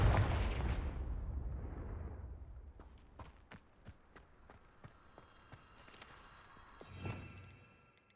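Fire spell cast in the Hogwarts Legacy video game, a heavy blast that fades into a crackling, popping burst with scattered sharp impacts and a second flare near the end, loud and alone.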